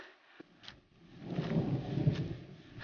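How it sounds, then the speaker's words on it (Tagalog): Deep rumbling thunder builds from a quiet start and rolls on loudly for a couple of seconds, with a few sharp knocks near the beginning, as rain starts in a jungle. "Naririnig nyo naman po yung kulog at kidlat."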